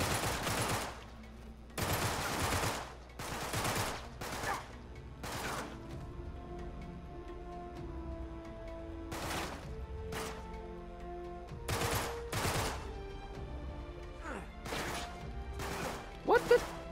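Gunfire in the Uncharted 3 shipyard level, sharp separate shots and short bursts close by, spaced across the scene with quieter gaps of game ambience and a player's voice between them.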